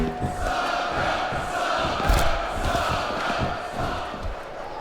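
Crowd cheering fills a wrestling arena in the SmackDown vs. Raw 2007 video game, a steady roar with one brief louder swell midway and no talk over it.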